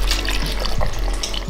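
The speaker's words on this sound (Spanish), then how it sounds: "Y le vamos a agregar un poquito de agua nada más." Water is poured into a blender jar holding three chipotle chiles for a Mexican zucchini cake sauce, a steady splashing pour that runs the whole short stretch, close and fairly loud.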